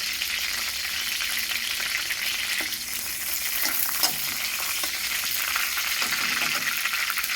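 Dried red chillies, bay leaf and cumin frying in hot oil, a loud continuous crackling sizzle with occasional stirring scrapes, close and steady throughout.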